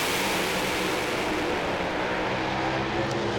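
Pro alcohol drag racing cars revving to about 5,500 RPM at staging on an Australian drag strip, a loud, steady, continuous engine roar filling the whole stretch with no break.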